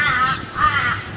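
Crows cawing in a short series of harsh calls, two main bursts close together, fairly loud against steady background noise.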